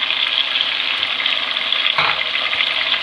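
Chicken and browned onions sizzle steadily in a pan for Pakistani-style chicken biryani as tomatoes go in, a continuous close frying hiss with a brief louder burst partway through.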